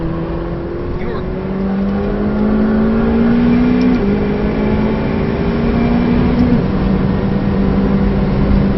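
A McLaren 720S engine drones steadily at speed around the Nurburgring, its pitch rising and shifting through gear changes under cabin noise, with people talking over it.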